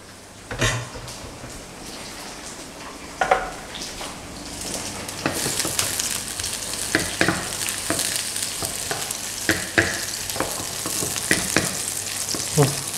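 Sliced shallots and garlic sauté in a hot pan, a steady bright sizzle with intermittent spatula scrapes and stirring clacks up close, growing louder partway through, no voices.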